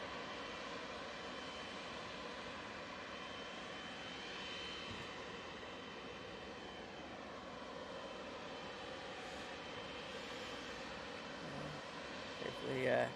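A Qatar Airways Boeing 777 arriving at Manchester Airport gives off a steady jet engine roar with a slowly shifting whine, moderately distant, and a brief clatter near the end.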